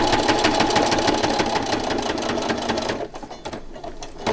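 A sewing machine runs steadily, stitching fabric for framed lace pieces with a fast rhythmic whir that stops near the end, leaving faint room noise.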